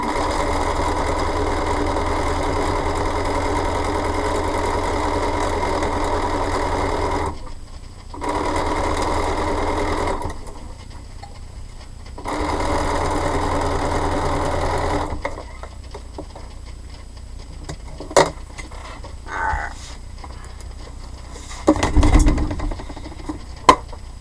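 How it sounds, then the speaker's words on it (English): A sewing machine runs in long sustained bursts while stitching quilt pieces, loud and close, with brief pauses between runs and a few quieter knocks and shorter whirs toward the end. "sewing another piece on"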